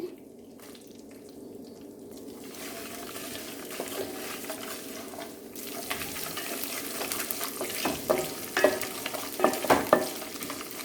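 Ginger pieces and green chillies fry in oil for amla pulihora, a steady close sizzle with scraping stirs and clinks that grow louder and busier toward the end; no one speaks.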